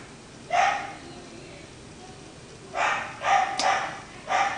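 Dogs bark at the mailman inside the house, one bark, then a pause, then a quick run of several loud, close barks.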